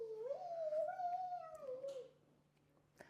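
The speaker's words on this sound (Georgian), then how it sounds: "ახლა კატა." A cat gives one drawn-out, rising and falling meow, close and fairly quiet, followed by near silence.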